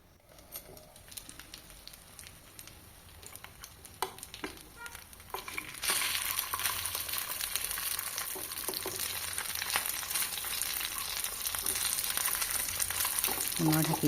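Brinjal (baingan) slices fry and sizzle in a pan while being stirred, with scraping and clinking early on, then a loud, steady hiss of hot oil that grows stronger; no talking.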